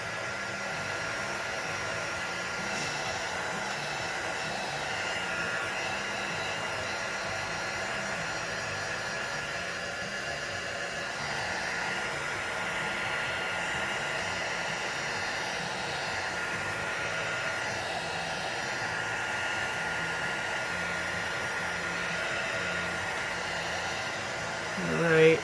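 A hair dryer blows steadily on wet fabric for a fabric carrot craft, a continuous close whooshing hum running unbroken throughout with a slight swell at the very end.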